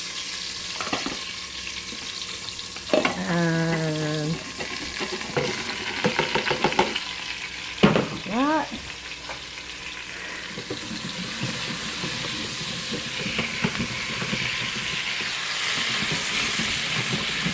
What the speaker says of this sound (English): Just mixing up the onions, breaking them up a little bit.